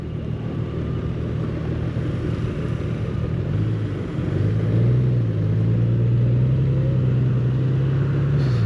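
A Honda Goldwing 50th Anniversary touring motorcycle engine drones steadily while riding in economy mode, low and throaty, rising slightly in pitch partway through as it picks up speed, with wind rush behind it.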